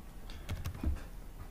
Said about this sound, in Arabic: ببتدي احدد عليه بالماوس كده وابتدي اكتب اسم المريض